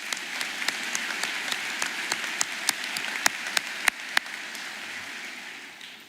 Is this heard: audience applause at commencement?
yes